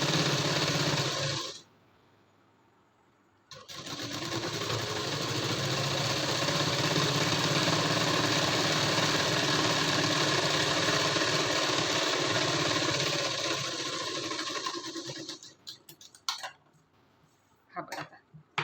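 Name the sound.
sewing machine stitching a puff sleeve blouse piece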